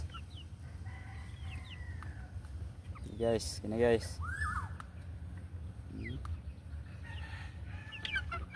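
Young pullets, four months old, clucking and calling in a farmyard; several short fowl calls and a crow-like burst rise over steady background noise, with someone talking intermittently.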